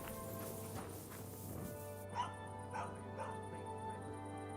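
A dog named Mutt in the medieval video game Kingdom Come: Deliverance 2 gives a few short, spaced barks and whimpers over a steady game ambience, fairly close and moderately loud.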